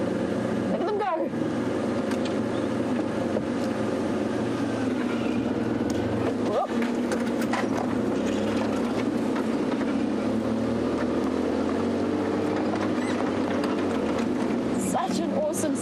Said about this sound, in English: I need to really accelerate to keep up with them.